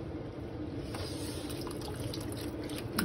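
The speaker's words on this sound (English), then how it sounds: "I'm just gonna add some filtered water" Filtered water poured from a container into a pan of noodles, chicken and tofu, a soft steady trickle and splash at low level throughout, swelling slightly at the end.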